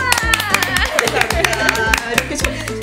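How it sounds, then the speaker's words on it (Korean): An audience claps to welcome a guest onto a talk show, a nurse who has worked in the US, Korea and Guam. Sharp, rapid claps sound close and continuous throughout, over voices and a musical backing. "박수로 맞아주세요."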